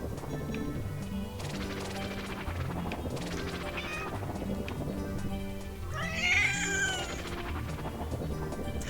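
A pet cat named Miles meows several times indoors, the calls drawn-out and rising into a loud caterwauling wail near the end, mixed with game sounds and a sharp crash-like clatter.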